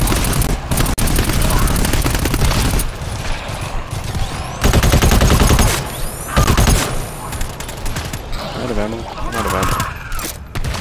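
Heavy gunfire in GTFO, loud, close and almost continuous, with rapid automatic bursts and booming shots broken by short gaps, while a voice talks over it.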